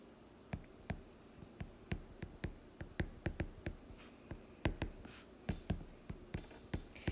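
Marker or chalk tapping and scratching on a classroom board while writing out a geometry note, a quick irregular run of close, crisp taps and short strokes with no talking.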